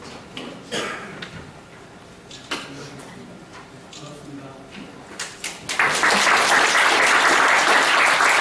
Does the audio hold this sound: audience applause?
yes